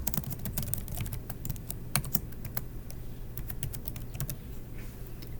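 Rapid, steady keystrokes on a computer keyboard as a mailing address is entered for a San Antonio garage sale permit application; close and continuous, with no talk.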